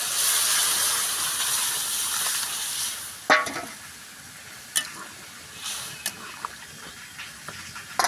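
Mung dal is poured into a hot frying pan holding a katla fish head, giving a loud steady sizzle and hiss that settles after a sharp pour and stir, with a few scattered clinks of a spoon afterward.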